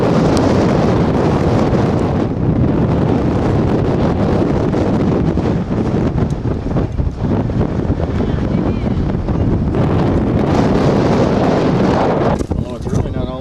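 Strong gusts batter an exposed lookout in Iceland, roaring loud and continuously against the microphone with a brief easing midway, while people speak faintly under the buffeting.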